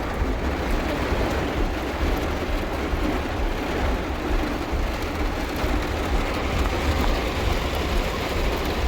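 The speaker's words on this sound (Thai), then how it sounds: "ตอนนี้ ฝนตกแรงมากครับผม" Heavy rain falls in a dense, unbroken hiss with a deep rumbling roar, steady and loud for the whole stretch, with no talking.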